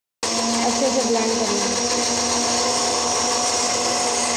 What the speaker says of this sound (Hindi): अभी हम उन्हें 2 मिनट के लिए ब्लेंड कर लेंगे।